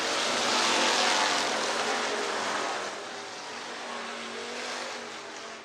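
IMCA race cars circle Kossuth County Speedway in Algona, Iowa, a steady loud engine roar from the pack down the back straightaway that swells early and eases slightly, with no talk.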